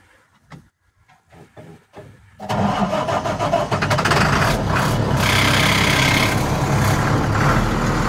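A 2007 International 4300 truck with a 190 HP Navistar six-cylinder engine cranks a few times with short bursts, then catches and settles into a loud, steady diesel idle.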